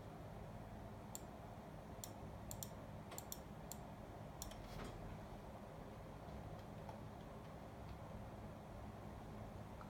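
Light keystrokes on a computer keyboard come in short scattered bursts over a steady low background hum, fairly faint and close by, clustering in the first half and then thinning out.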